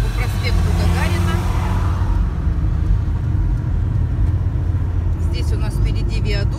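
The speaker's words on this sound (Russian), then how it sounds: "Итак, мы уже едем по проспекту Гагарина." Car driving along Gagarin Avenue, a steady loud low engine and road rumble running throughout, with someone talking over it.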